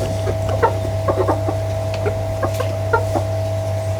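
Backyard chickens cluck in a run of short, soft bursts against a steady low electrical hum, heard close with no talking.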